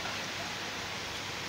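Steady rain falls outside during Storm Pabuk, a dense, continuous hiss with no pauses and no voices.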